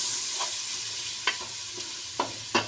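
Ground roasted spices and dried coriander dry-roasting in a pan for dal fry make a continuous close hiss, punctuated by a few brief scraping strokes of a stirring spoon.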